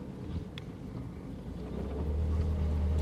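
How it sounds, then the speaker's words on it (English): A Lanchester LD10 car with a preselector gearbox downshifting into first gear: a steady low engine and driveline rumble with wind noise that rises slightly in pitch and level toward the end. "I think I can do a downshift into first quite easily."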